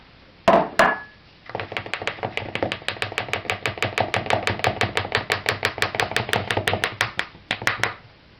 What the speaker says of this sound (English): sieving the flour